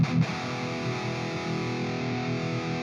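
Electric guitar played through the Nembrini Audio Hardball plugin with its harsh control engaged, a sustained distorted chord ringing out after a short picked attack, close and dense, with no talking.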